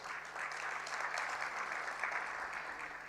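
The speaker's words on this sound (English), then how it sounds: "Please give Mr. Emmanuel another round of applause." Dinner-session audience giving a sustained round of applause for a speaker at a budget review, dense even clapping from many hands throughout, fairly loud and unbroken.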